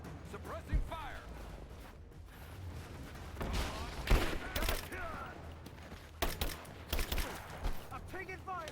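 Gunfire from a firefight in the video game Rise of the Tomb Raider: rapid bursts and single sharp shots at close range, clustered in several loud volleys and separated by brief lulls over steady background action, with shouted voices in between.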